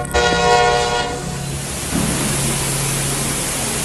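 A train horn sounds loud and sustained at the start, then a railway train rumbles steadily past with a continuous broadband roar, no voices.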